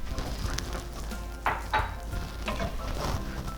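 A spoon stirs rinsed rice and water into a pot of partly cooked potatoes for a pilaf, giving soft scraping and clinking strokes over a faint sizzle, close up and with no talk.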